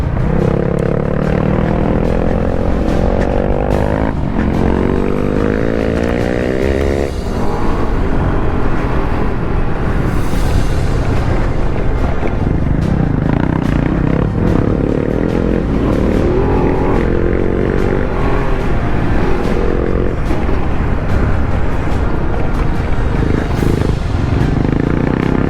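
Rally motorcycle engine droning loud and steady through dusty off-road terrain on a rally stage, with rising and falling revs, wind rush and clatter throughout.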